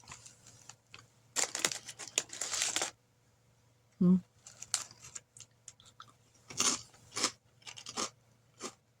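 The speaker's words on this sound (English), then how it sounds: "Tastes like a regular potato chip." Crunching bites of an air fried potato chip during a Colombian snack taste test, several sharp dry crunch bursts in clusters close to the microphone, with quiet pauses between.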